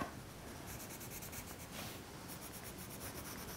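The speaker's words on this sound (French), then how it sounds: "je vais prendre un crayon marron pour lui faire sa barbe. Je vais bien colorier l'intérieur." A brown pencil scratches steadily across paper while colouring in a drawn pirate's beard, with a continuous close dry rubbing texture that carries short rhythmic strokes and has no speech over it.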